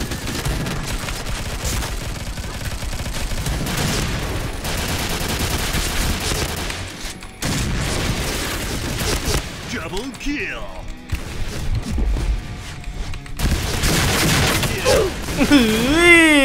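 Gunfire in the battle-royale game PUBG, including shotgun blasts, comes as repeated bursts of shots with abrupt gaps, mixed with game effects and excited commentary over the top.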